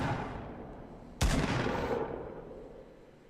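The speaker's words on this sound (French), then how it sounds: "Ça tire de côté de la ville aussi." A single loud gunshot-like blast in the video game Fortnite cuts through a dense rumbling game soundscape and leaves a long fading tail.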